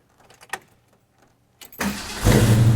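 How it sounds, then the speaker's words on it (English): A 1965 Ford Mustang Fastback engine is started from outside the car: a few faint clicks and a brief crank, then the engine catches and settles into a loud, steady running rumble. "let me start it up"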